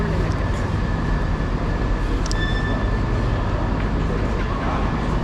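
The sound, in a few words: train at station platform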